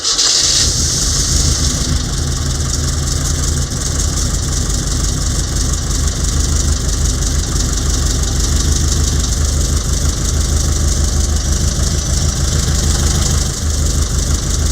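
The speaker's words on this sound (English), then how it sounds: "So this is how my overhauled engine works." An overhauled engine in a half-V8 project car starts and settles into a steady, loud, close idle with an even rhythmic throb throughout, no talking.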